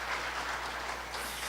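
An audience claps for a lecturer at a Korean startup talk, a faint, dense and even wash of applause heard from a distance without any voices.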